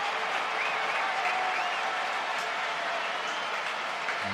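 The stadium crowd at a Barça versus Santos football match keeps up a steady, dense wash of applause and crowd noise, broad and continuous with no pause.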